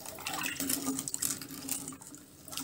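Water is poured from a glass into a pot of soaked moong dal and rice for khichdi. It makes a soft, brief splashing pour, close and quiet, lasting a few seconds.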